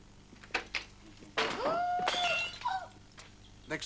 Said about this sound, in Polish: Stłukł pan mój kubek.